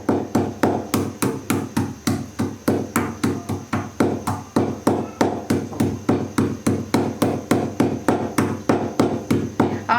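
Black peppercorns ground into powder by hand, the traditional way, for a homemade desi chicken curry: loud, close, steady pounding strikes at roughly two to three per second throughout, with no voices.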